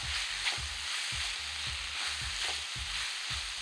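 Fenugreek leaves and mixed vegetables for bhogichi bhaji sizzle steadily in a hot pan, loud and close, while a spoon scrapes and stirs at a regular rhythm. No one talks.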